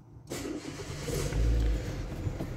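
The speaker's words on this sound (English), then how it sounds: "Start the car." Renault Scenic car engine cranking and catching, then idling with a low rumble and a brief rise in revs, close by in a garage during brake repair work.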